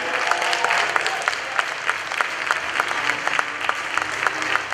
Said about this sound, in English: Shall we congratulate him with some more applause?